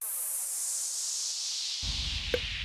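A downsweep effect in a trance track, a bright noisy whoosh sliding steadily downward in pitch over a couple of seconds, joined near the end by a low rumbling layer and a brief sharp hit.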